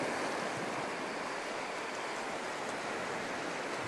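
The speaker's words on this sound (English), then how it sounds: "Because these ones are rolling in pretty slow" Slow sea waves roll in and wash onto the shore as a steady, broad surf roar, close and continuous throughout with no voices.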